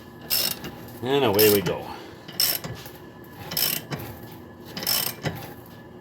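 A ratchet on a 7/8 socket presses a new ball joint into a Ram 3500 4x4 truck, heard as a string of sharp, evenly spaced ratcheting bursts close by, with a brief spoken phrase near the start.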